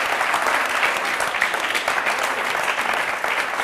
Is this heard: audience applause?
yes